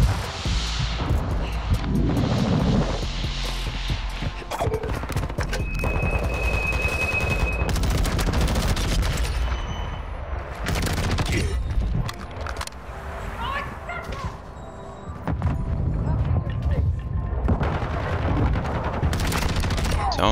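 Rapid gunfire from the Tempus Razorback rifle in Modern Warfare 2 crackles in dense, repeated bursts across a busy multiplayer match, loud and close, with game sounds and talk mixed in throughout.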